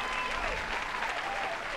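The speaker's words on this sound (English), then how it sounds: "Applause for Andy Powell." Steady applause and cheering from a small gathering, continuous and fairly even, with voices mixed into the clapping.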